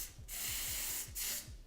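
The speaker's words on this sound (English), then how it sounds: "I'm gonna go in with my black even spray" Black hair spray is sprayed onto a card for a lace closure in two long, close hissing bursts separated by a short pause, with faint breathing-like thumps beneath.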